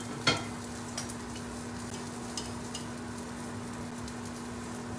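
Piadini flatbreads cook on a hot grill with a burner running too hot on the left, giving a faint, steady sizzle with a few soft ticks over a low constant hum, no talking.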